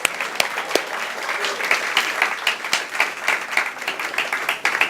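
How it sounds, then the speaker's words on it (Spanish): A church congregation applauds as children are sent off to their class, a loud, lively burst of many hands with sharp individual claps standing out from the roar and fluctuating in strength. "Un aplauso para ellos, por favor."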